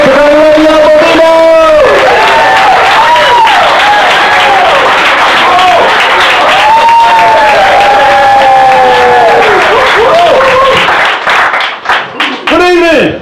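A comedy club audience at a brewery erupts in loud, sustained applause and cheering with whoops, filling the room continuously before fading into scattered claps near the end.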